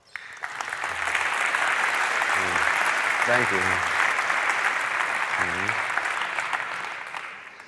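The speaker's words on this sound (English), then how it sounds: "Give her a round of applause." An audience breaks into loud, sustained applause that swells quickly and holds for several seconds, with someone briefly speaking over the clapping.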